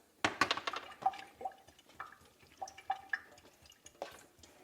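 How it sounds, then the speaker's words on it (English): Water tips out of a Sta-Wet acrylic painting palette tray in a quiet room, a short sequence of faint splashes and drips trickling away over a few seconds. "Dump the water."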